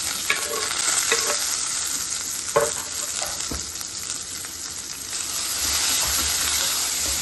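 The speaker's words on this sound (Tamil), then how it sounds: "ரெண்டு காஞ்ச மிளகா நல்லா பொரிஞ்ச உடனே ஒரு மீடியம் சைஸ் ஆனியன் கட் பண்ணி வச்சுருக்கேன் அதை சேர்த்துக்கலாம்" Dried red chillies and onion frying in hot oil for a mint chutney, giving a loud continuous sizzle with a few sharp stirring scrapes, close up and with no voices.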